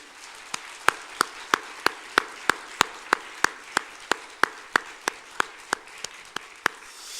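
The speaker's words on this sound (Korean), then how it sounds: "우리 하나님께 영광의 박수를 올려드립니다" Slow, evenly spaced claps from a church congregation, about twenty sharp strokes in steady rhythm over several seconds, moderately loud with a faint room wash between them.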